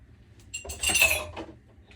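A utensil clinks and scrapes against a dish while cornstarch slurry is mixed for chicken spaghetti, giving a short flurry of bright metallic taps that peaks and fades within about a second.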